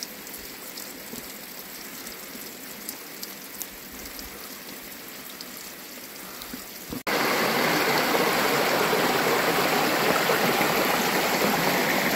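Water of the Almás stream in a Carpathian valley in Székelyland rushing steadily over its bed, a constant broadband wash that suddenly grows much louder and nearer halfway through, with no voices.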